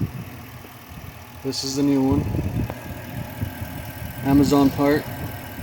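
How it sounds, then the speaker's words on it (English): A 2000 Toyota Tundra engine with a MAF sensor fault idles steadily and fairly quietly in the background while someone talks over it. "Engine's running."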